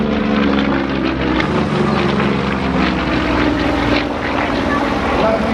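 A 360-horsepower radial-engine aerobatic plane performing at the Stellenbosch Airshow in South Africa, a loud continuous propeller drone holding steady overhead, with an announcer talking over it.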